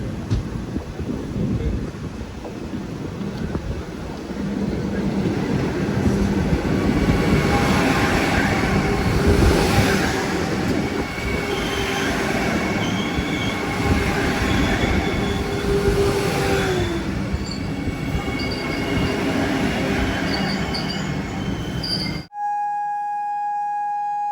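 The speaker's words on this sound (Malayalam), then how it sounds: "ഇവിടത്തേക്ക് മംഗളൂരു സെൻട്രൽ, തിരുവനന്തപുരം സെൻട്രൽ വന്ദേ ഭാരത് ഇതാ കടന്നു വരികയാണ്." The Mangaluru Central–Thiruvananthapuram Central Vande Bharat express runs into Kasaragod railway station with a long, loud, close rumble of rolling wheels and a brief squeal, buffeted by wind noise. Someone talks over it.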